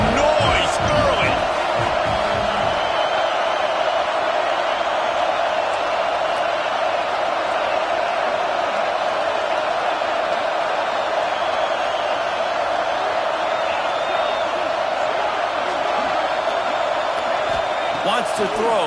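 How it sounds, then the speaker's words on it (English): A packed stadium crowd at a college football game roars as a loud, continuous wall of noise from start to finish, with a few louder swells near the beginning. "This crowd bringing the energy and noise early."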